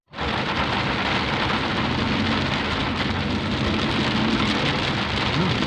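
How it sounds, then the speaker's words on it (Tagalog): Heavy rain pours down in a dense, constant roar that fills the whole clip without a break. "lakas ng ulan, guys"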